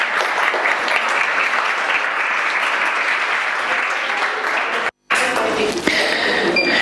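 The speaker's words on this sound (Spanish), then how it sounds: "un fuerte aplauso" An audience welcoming a mathematics show applauds loudly in a dense, continuous wash of clapping, broken by a brief cut of silence before it resumes more thinly.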